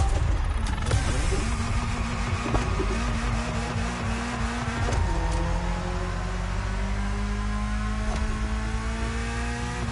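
A BMW M3 in The Crew Motorfest revs and accelerates close up, its engine note climbing and dropping through gear changes, loud and continuous with no talking.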